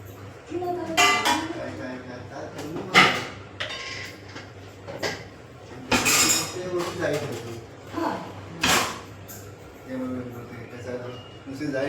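Steel plates clink and clatter in several separate bursts as they are handled, with a person talking in between.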